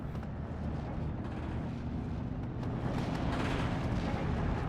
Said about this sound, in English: Another artillery piece being shot down there.